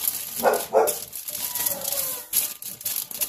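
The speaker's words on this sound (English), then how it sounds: "The dog's always barking at something." A dog barks twice in quick succession at mid distance outdoors while ribs and pork butt are being prepared for the smoker, followed by softer rustling and faint background activity.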